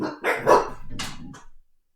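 A dog gives a few quick barks, fairly close, a brief burst of two or three yaps.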